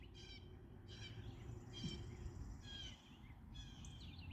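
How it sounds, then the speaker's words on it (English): A fish crow calls faintly in the distance, giving a few short, nasal caws spaced about a second apart over a low background rumble. "No, that was a fish crow."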